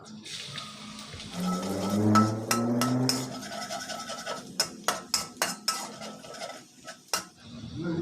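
Minced garlic stir-fried in pork lard in a hot pan, with a soft sizzle and then a series of sharp metal spatula scrapes and clinks against the pan.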